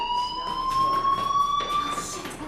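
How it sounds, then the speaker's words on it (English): Fire alarm in the game Life Is Strange, a steady piercing electronic tone sounding continuously at moderate volume with faint background noise. "Hey, do you hear that fire alarm?"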